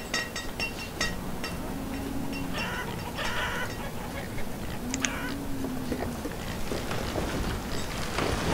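Chickens cluck repeatedly in the farming city-builder game Banished, several short bursts spread across the scene over a steady ambient background.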